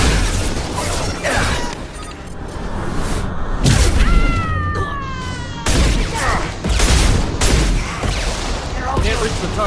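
Heavy gunfire from the video game Mass Effect 2 (Legendary Edition): sharp bursts and pops over a constant battle din, with brief shouted voices and a swooping tone in the middle.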